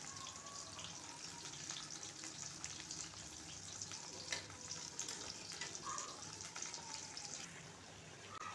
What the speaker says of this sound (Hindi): 4 से 5 मिनट तक आहिस्ता आहिस्ता चम्मच चलाते हुए बैंगनों को फ्राई कर लें।